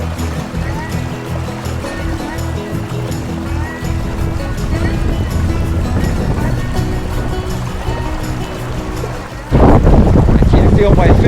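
Cold wind gusts roar steadily across the microphone beside the North Platte River at the bottom of Wyoming, with rushing water underneath and a sharp, louder blast near the end.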